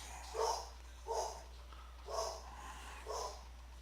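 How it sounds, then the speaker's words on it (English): A dog barks four times in the background during an online tank game session, each bark distinct and evenly spaced about a second apart, faint against a steady low hum. "pardon me, that's my dog"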